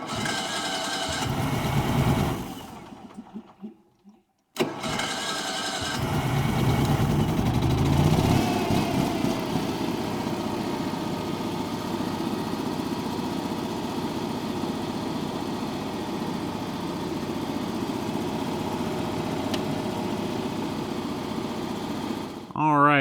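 An Onan Marquis 5000 generator engine, started with choke, coughs briefly, cuts out, then catches and runs at a steady, loud idle for the rest of the clip.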